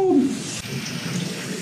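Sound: shower water running

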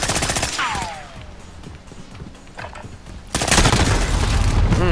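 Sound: pistol gunfire in the video game Modern Warfare

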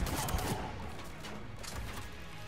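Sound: pistol shots in video game Mass Effect 3

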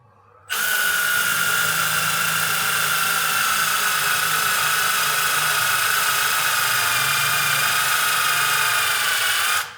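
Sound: Milwaukee M18 ONEID2 impact driver drilling

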